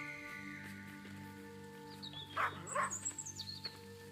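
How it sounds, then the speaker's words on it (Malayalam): A dog barks several times in the horror video game Maid of Sker, a short burst of loud, close yelps over a steady droning ambient hum, with faint bird-like chirps nearby. "ഓ, ഇവിടെ ഒരു പട്ടിയുണ്ട്."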